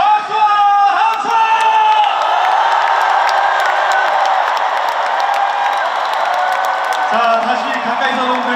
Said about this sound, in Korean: 다시 한번 이곳 스타디움이 떠나가도록 우리 대구 시민 여러분, 관객 여러분 다 같이 박수와 함성!